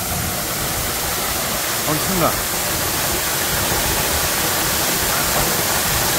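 Suok waterfall in Goesan, about 20 m high, pouring onto rock inside a ring of cliffs, a dense continuous rushing roar with a short spoken exclamation over it.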